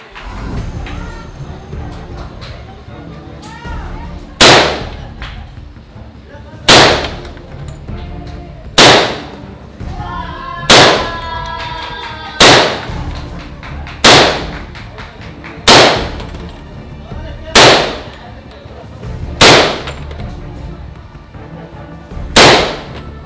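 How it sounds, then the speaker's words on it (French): Ten loud, sharp gunshots fired at a middle target in the video game Call of Duty Modern Warfare ring out one by one at a steady pace about two seconds apart, each with a short ringing tail. "On va essayer de tirer la cible du milieu."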